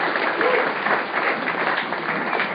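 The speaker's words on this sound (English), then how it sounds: "How about another round of applause for this film" A panel-discussion audience at the NCMR 2013 media conference gives a round of applause after a film, with continuous, even clapping from a full room.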